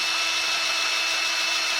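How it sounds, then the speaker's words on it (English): Drilling out a lifter bore in a Chevy inline 6 engine block, a continuous high, steady whirring grind of the cutting tool at close range with no pauses. "we've been drilling here for 30 seconds at least"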